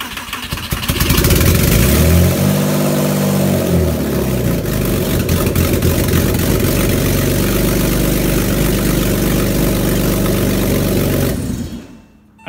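A newly installed Porsche Boxster S engine cranks on its first start, catches and roars loudly through open headers, revving briefly and then idling rough and heavy before shutting off abruptly.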